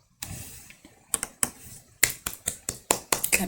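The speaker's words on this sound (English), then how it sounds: "Clapping hands for the dedication." Hands clapping near and fairly soft, a scattered run of about a dozen sharp claps that start slowly and quicken toward the end, alone with no talk.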